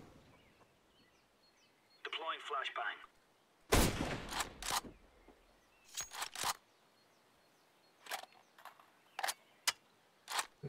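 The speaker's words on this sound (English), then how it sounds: "Throwing flashbang." A flashbang grenade thrown on the Inferno map in the CS:GO video game gives a loud burst around the midpoint, followed by sharp gunfire-like bangs and clicks spread through the rest of the clip.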